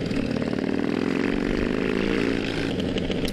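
Loud, close motorcycle engine fitted with an aftermarket 2-to-1 exhaust pipe, revving with a rising, raspy buzzing note before settling back, heard alone without talk.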